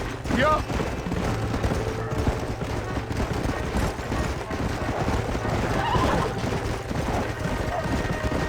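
Horses whinny and neigh in a Red Dead Redemption game scene near cliffs, with hoof clatter and occasional distant gunfire mixed into a busy, continuous soundscape, a voice briefly heard among the noise.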